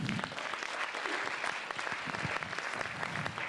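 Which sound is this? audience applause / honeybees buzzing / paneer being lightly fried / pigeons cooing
audience applause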